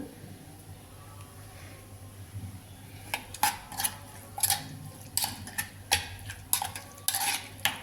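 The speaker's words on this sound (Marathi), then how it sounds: "हा रगडा असाच करायचा, असा मिक्स करायचा फक्त." A spoon mixes ragda with mashed potato in a pan, producing a series of rhythmic scraping and tapping strokes that grow louder and more regular in the second half.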